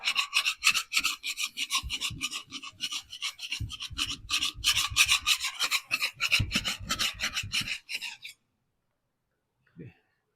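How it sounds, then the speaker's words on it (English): Metal trowel rubbed hard over a painted interior wall, a close, loud, rasping scrape repeated in quick back-and-forth strokes for about eight seconds, then silence with one faint knock. "You're basically rubbing in the metal from the trowel into the paint."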